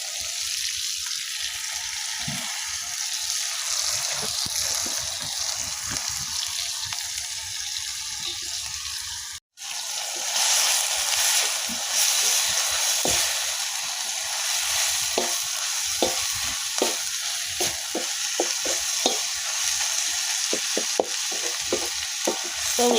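Sardines sizzling and frying in a tomato stew on a rainy day, a continuous loud hiss with repeated scraping stirs, briefly cut off midway before the sizzle resumes.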